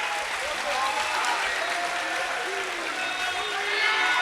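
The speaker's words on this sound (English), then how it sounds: "Round of applause for second place" An esports tournament crowd applauds a second-place finisher at a final, with steady dense clapping throughout, a broad continuous wash of sound, and voices faintly underneath.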